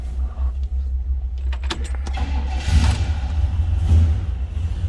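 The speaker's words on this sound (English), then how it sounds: "Let's go ahead and fire this up so you can hear it run." Keys jangle close by, then the V8 of a 1965 Chevrolet Chevelle Malibu SS convertible turns over and catches, settling into a deep, rumbling idle with slight revving.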